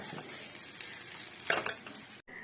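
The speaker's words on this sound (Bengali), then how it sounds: "একটু আজিনা মটর দিয়ে নাড়িয়ে নিলাম" Vegetarian chow mein stirred in a pan with a sprinkle of ajinomoto seasoning: a steady soft sizzle with scraping strokes, a sharper clatter in the middle, and a brief gap near the end. No talking.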